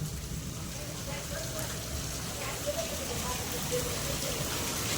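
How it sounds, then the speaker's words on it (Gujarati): Heavy rain during a downpour, a steady, fairly faint wash of falling water with a few drips and a distant voice underneath. "તમે જોઈ શકો છો વરસાદ કેટલો બધો આવે છે."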